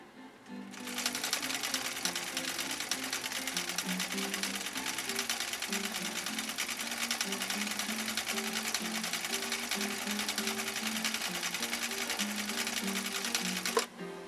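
A 1962 Husqvarna Viking Type 21E sewing machine runs continuously, close and loud, with a fast even whirring clatter of stitching that starts abruptly and stops near the end, with no talk over it.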